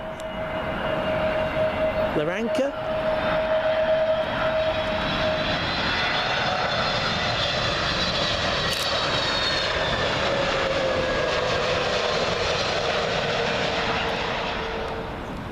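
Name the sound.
British Airways Airbus A320neo from Larnaca landing at Heathrow 27L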